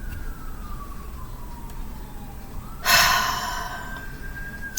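A faint siren wails in the distance, its tone sliding slowly downward, briefly covered by a sharp breathy gasp near the middle.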